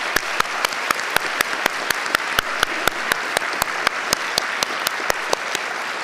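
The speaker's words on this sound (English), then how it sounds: "They will appreciate the applause." Graduation ceremony audience at a University of Galway winter conferring applauding steadily, with a dense wash of clapping punctuated by sharp regular claps throughout.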